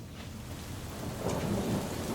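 Thunderstorm with steady rain and a low thunder rumble swelling toward the end, moderately quiet and continuous with no voices.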